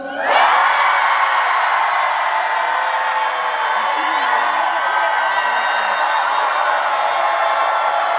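Fans at a concert in Los Angeles roar and shout in a loud, sustained crowd cheer that starts abruptly and holds steady throughout.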